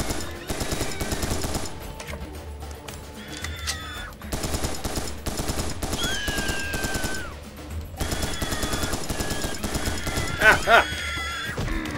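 Rapid weapon fire in the shooter Serious Sam 3 keeps going for the whole stretch, a dense chattering barrage under game sound effects, with a couple of louder bangs near the end.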